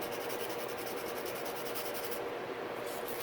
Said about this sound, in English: a little bit of sandpaper here. Just smoothing that out just a little bit.